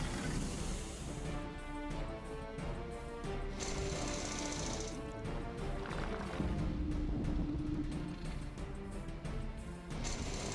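Rapid mechanical drilling attack in the video game Battle Nations, a dense continuous grinding rattle with layered tonal hum and impacts, loud and steady throughout with no talk over it.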